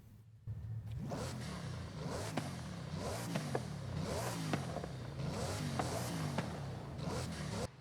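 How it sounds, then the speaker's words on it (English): Bugatti Veyron Super Sport engine in Forza Horizon 5, a low droning roar that rises and falls through repeated revs, with sharp bursts and clattering transients scattered over it. "the Bugatti Veyron Supersport is actually the best sounding one"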